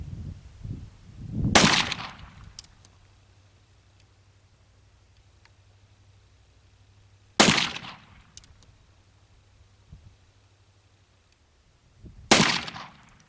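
Three sharp, loud gunshots from an 1861 Navy revolver, spaced several seconds apart, each a sudden crack with a short decaying tail over quiet outdoor background.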